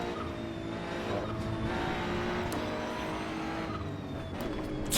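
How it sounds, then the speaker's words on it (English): Simulated car engine in Assetto Corsa EVO with its turbo building boost: a dense, steady engine roar with a rising whistle-like tone layered over it, continuous and fairly loud throughout. "You can really hear the turbo pick up boost."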